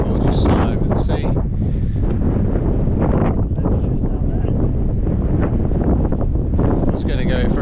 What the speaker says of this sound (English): Windy up top now, the wind's really picking up now.